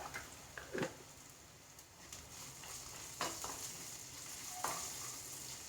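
Faint, steady sizzling of peanuts frying in oil, with occasional soft scrapes and clinks of stirring.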